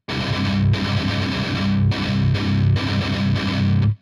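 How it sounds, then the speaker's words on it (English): Distorted electric guitar plays a heavy metalcore breakdown of palm-muted chugging notes left to ring, in loud sustained bursts with short gaps between phrases, from a metalcore song; no voices. "you're gonna let the notes ring out while it's palm muted"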